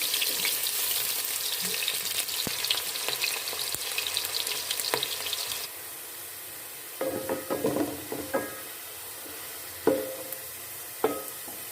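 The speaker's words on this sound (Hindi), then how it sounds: "अब इसमें हम प्याज डाल देंगे और इसको हम फ्राई कर लेंगे प्याज को" Onions sizzle and fry in hot cooking oil, a loud dense crackle that drops to quieter sputtering with occasional stirring scrapes and pops.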